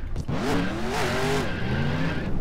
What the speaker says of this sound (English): Car kind of bounced when it hit the safer barrier.